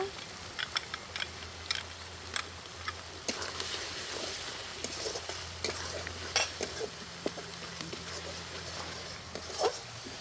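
Onions frying in oil with ginger-garlic paste and a splash of water added during an outdoor picnic cook-up, a soft continuous sizzle broken by frequent spoon-and-pan clinks and stirring taps.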